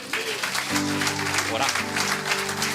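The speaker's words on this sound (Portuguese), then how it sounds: "Aplauda ao Senhor" A church congregation at a sermon claps steadily and loudly, with applause running under a preacher's voice and sustained music.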